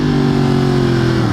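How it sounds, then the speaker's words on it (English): Yamaha FZ-10 (MT-10) motorcycle engine downshifting, a loud, close, steady drone with strong low harmonics throughout a brief moment. "Downshifting this bike sounds so good."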